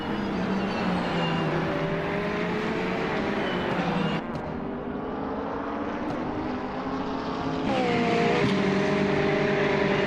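A 2018 Ferrari 488 GT race car engine in a racing video game roars continuously at high revs, its pitch climbing and dropping with gear shifts around four and eight seconds, loud and close, with no speech.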